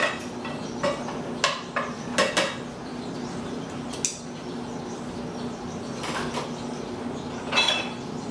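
A utensil stirring a pot of simmering food, with several sharp metallic clinks and scrapes against the pot spread irregularly over a low, steady background.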